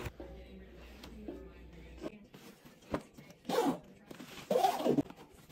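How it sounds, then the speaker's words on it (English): A sturdy zipper on a Protec Gold Series CF204 banjo gig bag is pulled in two or three quick, close rasping runs, with softer handling rustles between them. "The zippers are very robust and not cheap."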